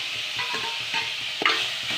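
Crab sizzles loudly and steadily in hot oil as it is stirred, with a few scraping clatters over the constant frying hiss.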